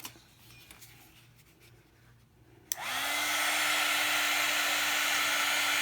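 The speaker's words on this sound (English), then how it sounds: "I'm going to hit this with the heat gun for just a second" A heat gun kicks on with a click and then blows steadily and loudly, a continuous whooshing airflow with a rising whine, used to dry paint on a junk-journal tag; quiet room before it starts.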